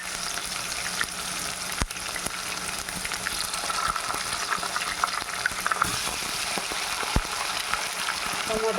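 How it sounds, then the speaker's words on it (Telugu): Tomatoes simmer and fry in a pan with onions for a Rayalaseema dried fish curry, a soft steady sizzle and bubbling heard close, with a couple of sharp utensil clicks. "టమోటాని బాగా మగ్గనిద్దాం."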